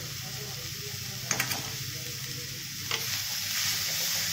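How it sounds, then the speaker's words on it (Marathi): Shredded cabbage filling for paneer momos sautéing in a hot pan, a continuous close sizzle with a spoon scraping and stirring in a few brief bursts. "आपल्याला व्यवस्थित परतून घ्यायचं आहे"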